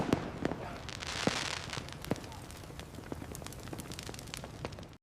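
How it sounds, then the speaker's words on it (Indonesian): Fireworks and firecrackers set off outside a hotel lodging a visiting Chinese football team, sharp bangs and crackling bursts at irregular intervals, some loud and close, over a steady roar of fizzing and crowd noise. "Timnas Cina diteror kembang api"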